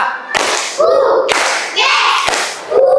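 A group in an Indonesian primary-school teacher training class claps together in rhythm, short synchronized bursts of hands striking in patterned counts, loud and close, with voices chanting along between claps.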